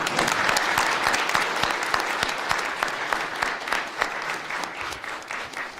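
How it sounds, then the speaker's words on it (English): Audience at a United States citizenship ceremony clapping steadily, a dense, moderately loud round of applause from a room of people, sustained for several seconds without fading. "I'd like everyone just to give a round of applause."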